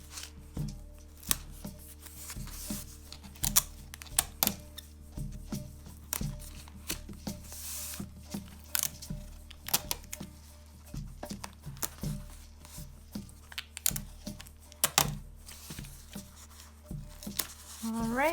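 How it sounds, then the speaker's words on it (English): Clear tape pulled from the roll and pressed onto a cardboard rainstick tube, a long run of close crackling rips and sharp taps coming in irregular bursts over a low hum. "I'm gonna go again and take some tape"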